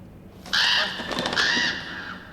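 Crows cawing in the horror video game Until Dawn, a single harsh drawn-out caw with a rough overlapping second call, fairly close and clear over a quiet backdrop.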